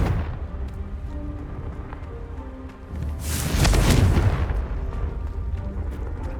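A Confringo spell from the video game Hogwarts Legacy goes off as a loud, close explosive blast with a broad rushing burst, fading into crackling debris over continuous rumbling battle noise.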